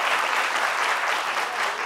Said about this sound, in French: On les raccompagne avec des applaudissements.